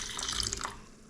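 Water pours from a cup into a mixing bowl of sourdough during baking, a steady trickling splash for about a second that fades out, close and moderately quiet.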